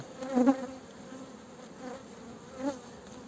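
A steady buzzing drone of honeybees close by at an opened hive with brood, swelling louder in a couple of brief surges, with no voices.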